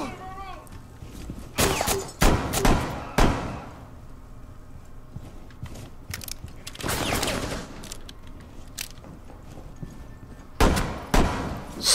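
Revolver shots in Rainbow Six Siege Terrorist Hunt, a burst of loud sharp cracks in clusters with pauses between, mixed with other game gunfire and a voice talking over it.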